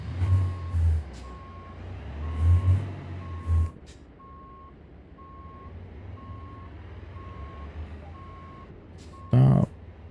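Steady evenly spaced reversing beeps from a truck backing up in American Truck Simulator, repeating under the idle rumble of the engine, with a short burst of air-brake hiss near the end.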